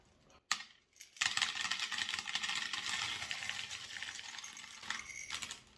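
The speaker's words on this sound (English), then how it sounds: "Hopefully, gently, slowly, not making a mess, pour out the leca." LECA clay balls poured out of bowls: a rattling, clattering rush of small hard pebbles lasting several seconds after a brief click, fairly close and moderately loud, with no talk.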